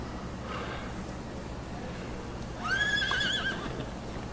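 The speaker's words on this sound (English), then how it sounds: "I got a horse." Horse in the Metal Gear Solid 3: Snake Eater video game gives a clear, loud whinny lasting about a second over steady game ambience, with faint hoof sounds beneath.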